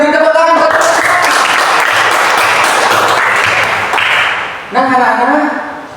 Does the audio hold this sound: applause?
yes